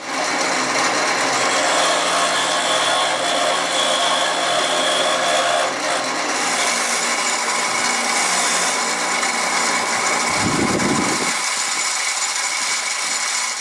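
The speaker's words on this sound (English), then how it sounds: "I'm going to bring it out to the grinder to finish shaping it, and then I'm going to buff it up on the wire wheel" A bench grinder shapes a metal hitch safety chain bracket and then a wire wheel buffs it, a steady loud whirring grind throughout with a brief heavier contact near the end.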